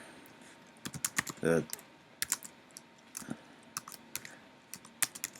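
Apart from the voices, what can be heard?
typing on a computer keyboard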